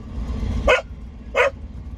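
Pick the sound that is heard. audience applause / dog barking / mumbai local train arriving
dog barking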